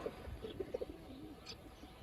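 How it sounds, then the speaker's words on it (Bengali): A Jak pigeon, a tournament bird, gives a few soft, quick low coos in a short burst, faint and close, with a quiet hiss behind. "মূলত এটা জাক কবুতর"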